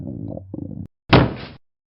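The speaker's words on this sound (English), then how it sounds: "2 cannon shots can be heard in the distance." A cannon shot sound effect lands as a single short, booming burst after a brief tonal passage, then cuts to silence.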